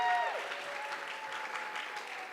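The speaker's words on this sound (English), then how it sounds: "Let's give another round of applause for them." Audience at a family talent night gives a round of applause, a steady wash of clapping that holds at even loudness for a couple of seconds.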